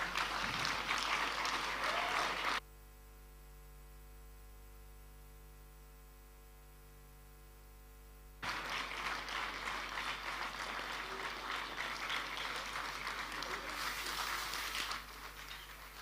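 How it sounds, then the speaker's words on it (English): Guests at a silver jubilee anniversary dinner applaud the arrival of the King of Asanteman; distant clapping on a live broadcast feed, cut by a stretch of electrical hum midway before the applause resumes. "give an amazing round of applause as we receive His Royal Majesty Opemsuo Osei Tutu II, King of Asanteman"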